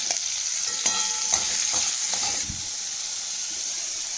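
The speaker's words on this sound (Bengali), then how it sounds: "তেলটা গরম হয়ে গেছে, লবণ হলুদ মাখিয়ে বেগুনটাকে আমি ভেজে নেব।" Eggplant slices coated in salt and turmeric sizzle and fry in hot oil in a pan, with a steady close hiss and a few light clicks from stirring or turning. No one speaks.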